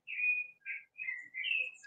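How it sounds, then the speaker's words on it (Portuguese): Birds sing in a home garden in Porto Alegre: a few short, clear whistled chirps in quick succession, fairly soft and somewhat distant against an otherwise quiet background. "estão ouvindo os pássaros cantar aqui em Porto Alegre"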